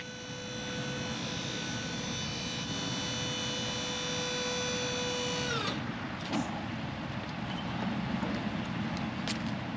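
A hydraulic dump trailer bed rises toward a 48-degree angle, giving a steady pump whine with tonal hum that cuts off partway through, leaving broadband mechanical noise and engine rumble behind.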